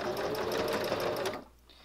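A sewing machine runs steadily as it stitches a quilted heart shape, a dense, rapid whir filling the first second and a quarter before stopping abruptly, leaving only a faint residual hum.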